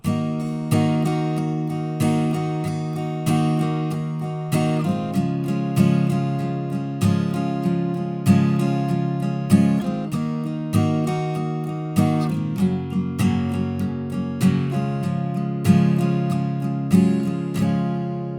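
Strummed acoustic guitar in standard tuning plays the intro chords of a song, a steady rhythmic progression, loud and close, with regular accented strokes changing chords every couple of bars.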